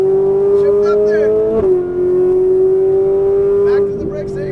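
A Ferrari 458 Italia engine holds a steady high note, dips briefly at an upshift around mid-clip, then carries on loud and close with a driving instructor talking over it.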